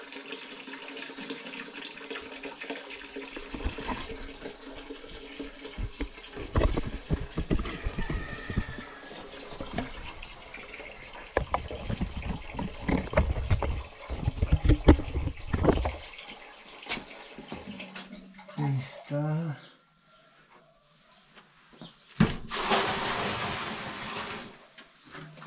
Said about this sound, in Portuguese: Agora encho o balde